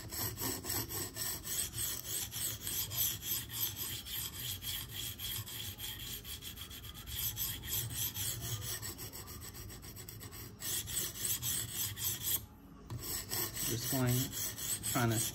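Spyderco Police 4 knife with a K390 steel blade drawn across a sharpening stone in steady repeated rasping strokes, close and fairly loud with an even rhythm.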